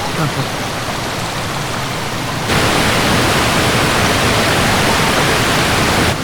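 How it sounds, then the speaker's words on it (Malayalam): A roaring waterfall, a loud, dense, unbroken rush that swells even louder partway through, close and overwhelming. "എന്തൊരു ഭയങ്കര വെള്ളച്ചാട്ടമാണ്."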